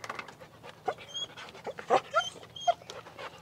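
A reactive Australian Shepherd whimpers and whines in short high squeaks mixed with panting, close and fairly faint, with a few brief sharp peaks.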